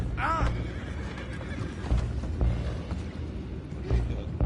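Horses in Red Dead Redemption 2 whinny loudly near the start, then hooves clop in a steady rhythm beneath a low rumbling background, with a few louder thumps along the way.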